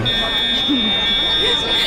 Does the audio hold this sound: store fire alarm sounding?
yes